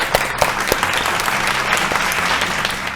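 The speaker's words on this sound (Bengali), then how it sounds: "হাততালি জোরে আজকে।" Studio audience applauding steadily on a Bengali family game show, a dense sustained patter of clapping with a few sharper claps standing out, loud and close throughout.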